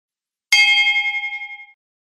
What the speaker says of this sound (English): Easy manual bell ringing for any schedule.